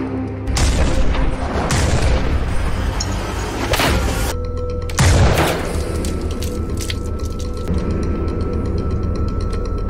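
Heavy booming sniper gunshots and blasts in an action film ring out over a dense rumbling backdrop, a few sharp reports standing out early, with no talking.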